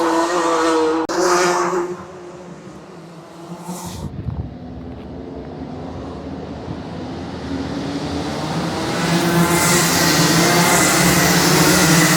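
Racing karts on a kart championship track, engines buzzing and whining as several pass at varying distances, with a near pass early and a rising, louder rush toward the end. No talking is heard.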